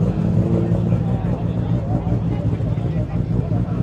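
A car with a 1JZ engine revs loudly nearby at a GTR festival, a steady throaty roar that swells and holds for a few seconds.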